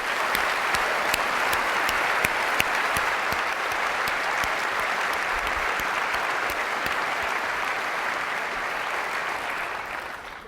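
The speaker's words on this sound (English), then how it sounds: "I'd really like to give one more round of applause, thanking all of our developers for their amazing work." Sustained applause from a large keynote audience at Apple's WWDC 2008 developer conference, dense and steady for about ten seconds before tapering slightly at the end.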